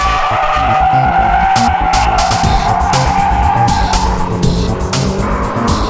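A car drifting through a corner with loud, sustained tire squeal and skidding over a roaring engine, close and intense throughout.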